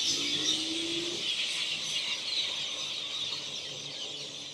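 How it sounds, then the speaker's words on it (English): A dense, loud wash of countless birds calling at once, heard during a ride, a continuous high chorus with no distinct single calls and no talking. "Birds galore going crazy."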